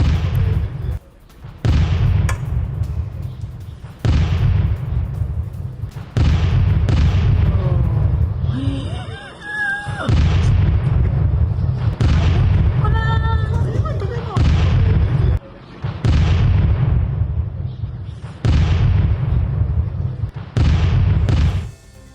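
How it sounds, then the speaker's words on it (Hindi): Repeated loud booms of a rocket and missile attack, about fifty missiles fired at Israel and met by Iron Dome interceptors, recur every couple of seconds over a constant low rumble, with a brief break where other sounds cut through. "इजराइल पर एक साथ दागी गई है 50 मिसाइलें।"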